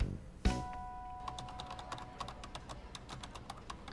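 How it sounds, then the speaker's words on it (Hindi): Someone types fast on a computer keyboard, a quick irregular patter of sharp key clicks after an opening thump, close but at moderate volume. "अरे कीबोर्ड टूट जाएगा"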